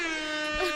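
A single loud, sustained air horn blast sounds as an effect, with a steady buzzing tone lasting under a second.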